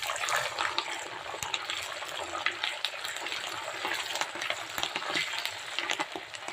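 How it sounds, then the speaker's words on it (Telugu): Green chillies and curry leaves tempering in hot oil give off a dense, continuous sizzle with rapid crackling pops, close and fairly loud, with no voices. "నేను కొంచెం పోపు ఎక్కువనే వేస్తున్నాను"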